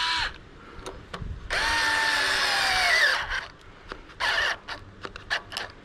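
Fanttik Nex L1 cordless screwdriver whirring at speed 6 in long, steady high-pitched runs with a rising whine, broken by short clicks and brief bursts, close and loud, with no talking.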